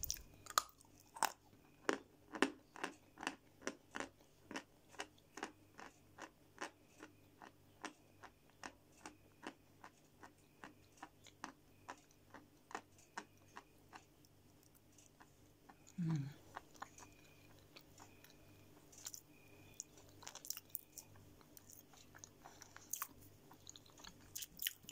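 Close, crisp crunching of creamy-flavoured snack sticks being chewed, a steady run of bites and crunches that slows and thins out toward the end, with a brief faint voice-like sound midway.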